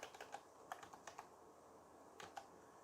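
Keys clacking on a computer keyboard in short bursts of a few quick taps each, separated by pauses, fairly faint and close with no talking.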